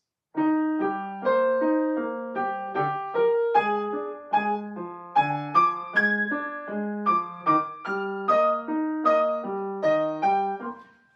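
A trumpet and a flute trade a bright, lilting tune back and forth in different registers, with clear note-by-note phrasing and no voices.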